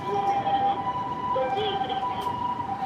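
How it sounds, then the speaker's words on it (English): An ambulance siren wails steadily on a Tokyo street near Kachidoki Bridge, close and persistent over traffic rumble and city noise. "There's also a lot of hospitals here, so there's a lot of ambulances."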